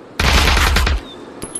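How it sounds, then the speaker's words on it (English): Loud, rapid burst of game gunfire in the VR shooter Aim XR, close and dense for nearly a second, then cutting off; a few faint clicks and a thin high tone follow. "I'm firing."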